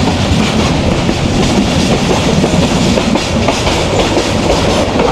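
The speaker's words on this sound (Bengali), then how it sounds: "সিলেট থেকে চিটাগাংয়ের উদ্দেশ্যে আমাদের পাহাড়িকা এক্সপ্রেস পাহাড়, বন, নদ নদী পাড়ি দিয়ে ঝড়ের বেগে দুরন্ত গতিতে" The Paharika Express passenger train runs from Sylhet toward Chattogram in Bangladesh, its rails giving a loud, continuous rumbling clatter heard from close by with no pauses.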